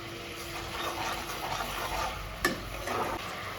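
Bay leaf, cumin and dried chillies sizzle in the meat juices left in the pan, making a soft, steady close crackle with one sharp clink partway through.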